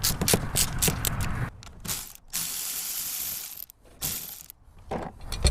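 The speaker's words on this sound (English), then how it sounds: "So I just got a bunch of 3/8 extensions strewn together with a 12mm socket, and I'm going to take that bolt out." Ratchet driving a 12mm socket on a long chain of 3/8 extensions, backing out a bolt while a front bumper goes onto a 5th gen 4Runner; rapid close clicking bursts with brief pauses, loud and alone.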